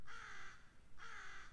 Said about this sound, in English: With the crow chirping in his backswing